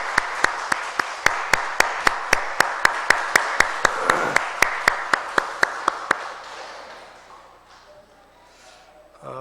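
A congregation at a Baptist church's Sunday morning worship service claps in unison, sharp, evenly spaced beats for about six seconds before the clapping stops and the room falls quiet with faint murmuring.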